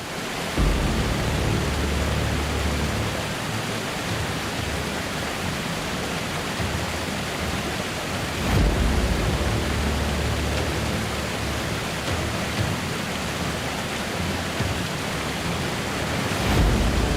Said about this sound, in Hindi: किले के रास्ते में ये एक ऐसा वाटरफॉल है जो किसी का भी दिल जीत सकता है